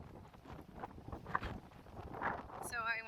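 Strong wind blowing outdoors along a small path near a park campground, a steady broad rumbling roar with gusts rising and falling throughout, with faint voice-like sounds mixed in.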